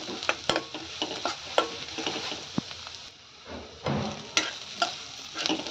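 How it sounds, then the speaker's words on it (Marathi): Garlic and coconut paste with coarsely crushed peanuts being sautéed in a pan for a lentil vada and onion dish, a soft sizzle broken by repeated clinks and scrapes of a stirring spoon. "आता यामध्ये आपण शेंगदाण्याचा कूट घालून घेऊया, थोडासा जाडसर, आणि हे चांगलं सगळं परतून घेऊया."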